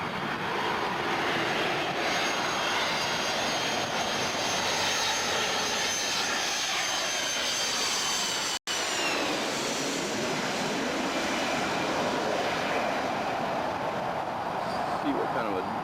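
A jet airliner coming in to land at Orlando International Airport, passing close overhead as a loud, steady broadband roar with whining engine tones that shift as it goes over, a brief dropout midway.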